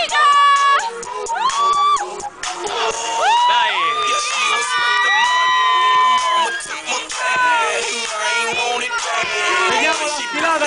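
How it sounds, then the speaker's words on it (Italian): Loud crowd at a Cerenova summer-camp fashion show and prize-giving, with children shouting, cheering and whooping in high excited voices throughout, rising and falling as a busy mass of sound. "Applausi, applausi."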